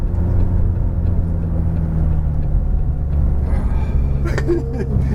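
A McLaren 570S is driven hard around a cone course, its engine giving a steady, heavy rumbling drone throughout with little change in pitch.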